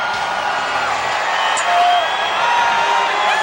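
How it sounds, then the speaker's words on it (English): Huge Times Square crowd in New York waiting for the 1993 New Year's countdown, a dense continuous roar of cheering and whoops, swelling slightly midway, with no talk. "Listen to that crowd."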